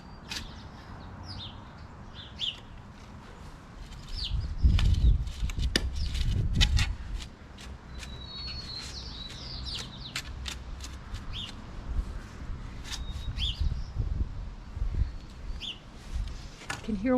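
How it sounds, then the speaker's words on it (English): A pet sparrow gives faint, plaintive little chirps, scattered and brief, from just behind the listener indoors, over a low room hum and occasional soft knocks. "I can hear one of my sparrows right behind me. That plaintive little chirp he's making"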